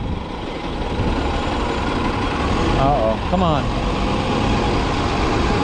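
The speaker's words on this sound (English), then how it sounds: "A lot of traffic for 1:30." Heavy road traffic with trucks at midday, heard from inside a vehicle as a loud, constant engine rumble and road noise, with a brief squeal partway through and a person speaking briefly.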